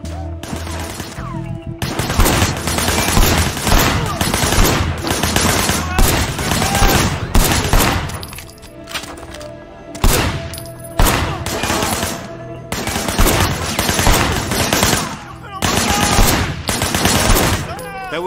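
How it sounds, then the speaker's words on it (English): Rapid bursts of gunfire from a moving car in the video game Sleeping Dogs, shots cracking out in dense volleys and short pauses over about eighteen seconds, loud and close amid engine and crash noise. "firing shots from the passenger window"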